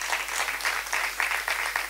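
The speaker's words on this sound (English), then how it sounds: "a big round of applause." Audience applause at a reading certificate course presentation ceremony, greeting Jacinta and Shane after their performance; a moderate, fairly steady wash of many hands with slight swells, heard alone without talk.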